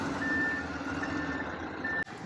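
A truck's reversing beeper sounds in repeated steady tones over a constant engine rumble, close by, ending with a brief knock near the end; no one speaks.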